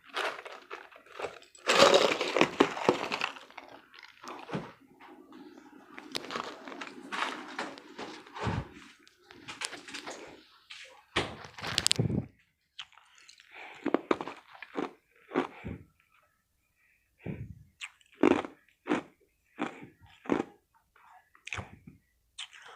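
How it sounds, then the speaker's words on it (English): A woman crunches and chews ice cubes up close, with irregular bursts of sharp crunching separated by short pauses and softer chewing in between. "I like to eat ice, so if you hear a little crunching, excuse me."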